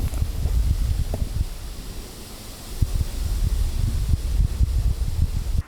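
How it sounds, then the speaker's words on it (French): Strong wind buffets the microphone in a constant low roar with gusty rumbling and rustle throughout, no voices. "il y a un vent de course horrible"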